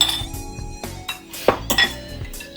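A utensil clinks and scrapes against a bowl while beaten eggs are stirred into a potato, onion and pepper galette mixture, giving light irregular taps close by with no talking.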